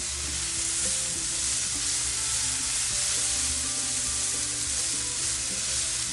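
Fresh ground ginger sizzles and crackles steadily in a Lodge Cook It All cast iron pan used as a wok, a loud, dense frying hiss with stirring scrapes running throughout, no voices.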